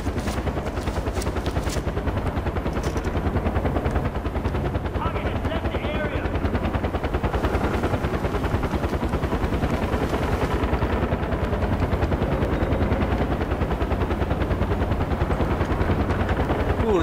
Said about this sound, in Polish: Ten helikopter, tylko żeby się go pozbyć.